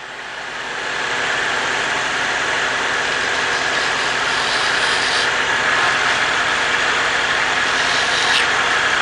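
A wood lathe runs steadily with friction polish being applied, a loud, continuous whirring hum that swells over the first second and then holds even, with no voices.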